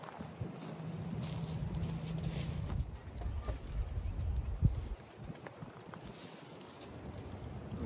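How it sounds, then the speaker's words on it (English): Wind gusts rush and roar against the microphone in waves, with low rumbling buffets rising and falling throughout. "kind of wait for these gusts to die down"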